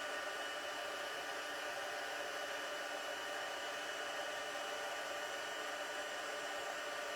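Embossing heat tool blowing steadily over colored cardstock, a constant loud whooshing hum of hot air running without a break, close and alone with no talk.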